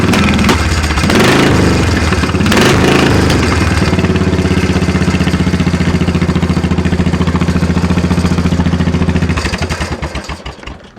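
A loud engine rumbles and revs through a throaty, open homemade custom exhaust, settling into a steady, lumpy idle before sputtering and cutting off at the end.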